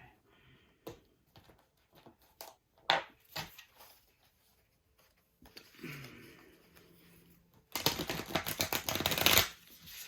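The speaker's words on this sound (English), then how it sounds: "while I'm shuffling here" Tarot cards handled and shuffled during a full moon reading, scattered soft taps and slides at first, then a dense, loud riffling burst near the end, close and dry with no talk.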